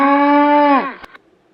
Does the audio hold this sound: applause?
no